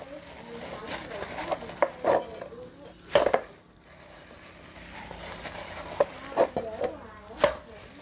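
Fish paste pounded in a pot, producing repeated dull thuds and knocks at irregular intervals, several louder blows standing out, with speech around them.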